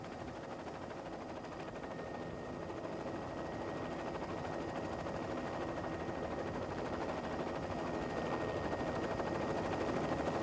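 A helicopter flies over a glacier with a steady, continuous rotor and engine drone that holds at a constant level throughout, and no voices can be heard.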